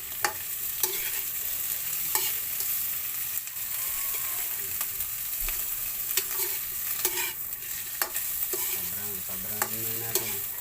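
Shrimp browning in a hot frying pan for chop suey, a constant bright sizzle punctuated by regular clicks and scrapes of a stirring utensil against the pan.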